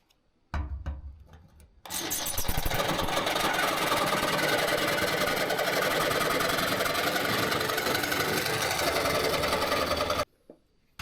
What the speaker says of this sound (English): taking a jigsaw with a metal blade, you can kind of cut that out really quick